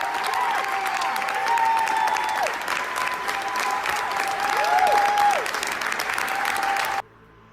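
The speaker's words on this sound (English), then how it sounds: "the New York State Assembly cheer voraciously after the passage of the new rules regarding abortion" The New York State Assembly cheers and applauds after passing new abortion rules, with loud sustained clapping and crowd noise, whistle-like tones rising over it, before cutting off abruptly near the end.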